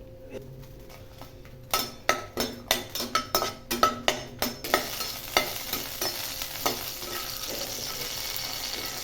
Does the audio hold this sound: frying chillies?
yes